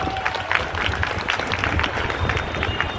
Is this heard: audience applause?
yes